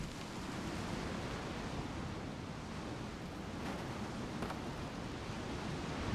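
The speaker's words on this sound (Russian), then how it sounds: "Да, ветер сильный." Strong wind roars steadily in the video game Tyranny, a dense, continuous broadband rush with no pauses and no speech.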